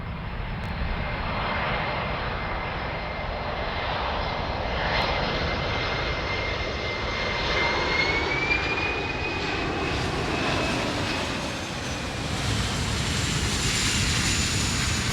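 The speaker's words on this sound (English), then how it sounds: "Airplanes continue to arrive" Propeller airplanes arriving at the Pratt & Whitney air show at Rentschler Field in light rain and fog, a steady loud engine drone filling the whole stretch with a slowly shifting pitch and no break.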